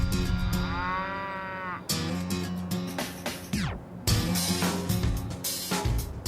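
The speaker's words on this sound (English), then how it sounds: "we're going to meet the prize-winning herd of longhorn cattle, an entire paddock of clones" Longhorn cattle in a paddock low repeatedly, with several loud, drawn-out moos that rise and fall from different animals, some overlapping, heard close with no talking.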